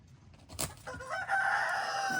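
Near a flock of blue-laced Wyandotte and Lakenvelder chickens on a hobby farm, a rooster crows once, close and loud, over faint clucking.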